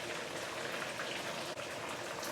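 Belacan-marinated chicken wings deep fry in hot oil at medium to medium-high heat, giving a steady, dense sizzling and crackling hiss that is faint and continuous, with no talking.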